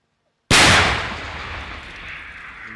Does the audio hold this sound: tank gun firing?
yes